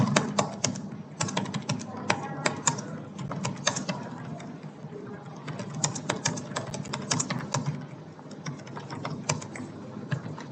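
Fingers type steadily on a computer keyboard, giving a close, continuous run of quick key clicks in bursts with short pauses and no talk.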